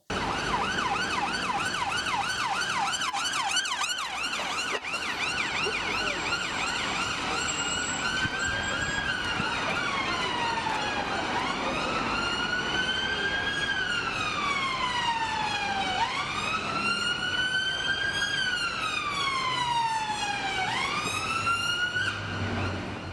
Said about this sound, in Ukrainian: постійний воплів сирен поліцейських або ембюленс, або пожежних машин